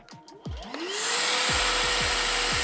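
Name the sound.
vacuum system pulling vacuum on engine crankcase for oil change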